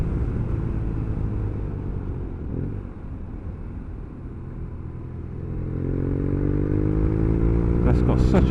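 BMW R nineT Urban GS motorcycle exhaust note, a deep rumbling boxer-twin drone that eases off, then rises as the bike accelerates, loud and close throughout.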